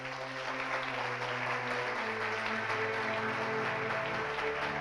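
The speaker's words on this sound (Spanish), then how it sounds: "Denle un aplauso a mi Señor." A church congregation claps steadily throughout, a dense, even wash of applause with a faint sustained musical tone beneath it.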